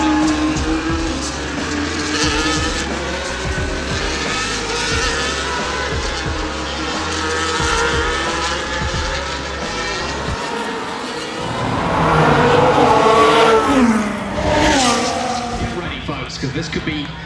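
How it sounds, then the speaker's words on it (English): Formula 1 cars at the Las Vegas race start, a loud sustained engine roar that swells toward the end as cars accelerate down the straight, with crowd and commentary noise mixed in. "See the drivers weaving their tires down that straight as well, just trying to get into the turns."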